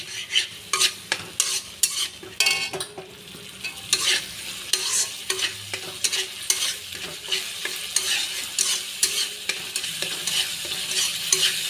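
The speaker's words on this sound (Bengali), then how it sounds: "গ্যাসটা কমিয়ে দিয়ে মশলাটা কষাবো। ভালো করে কষাবো, নাহলে এমনি করে নেড়ে নেড়ে কষাতে হবে," A spoon stirs spice masala with yogurt in a pan over lowered gas heat, scraping and sizzling steadily with repeated rhythmic strokes, close and moderately loud, no voices.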